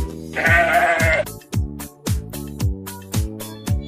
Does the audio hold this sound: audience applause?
no